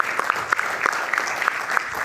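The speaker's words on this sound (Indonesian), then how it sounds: "Saya panggilkan dulu Bung Andre Rosiade, kita berikan tepuk tangan." Applause from a studio audience greeting a football-loving parliament member as he is introduced on a talk show, steady dense clapping with sharp individual claps throughout.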